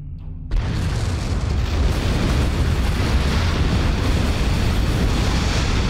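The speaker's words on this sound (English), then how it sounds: "The charges on the surface are ready to detonate on your command." Detonated charges erupt in the Star Trek Online game: a sudden loud blast kicks in after a brief quiet moment, then swells into a sustained, broad roaring rumble that keeps going without fading.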